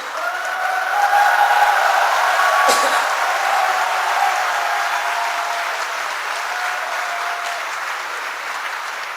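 A crowd claps loudly at a Democratic Party political election speech, dense sustained applause holding steady and slowly easing toward the end, with voices underneath.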